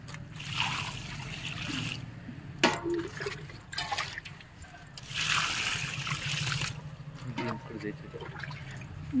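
Water poured onto newly sown soil in terrace garden containers, a soft trickling and splashing in short bursts, faint and close, with occasional handling knocks in between.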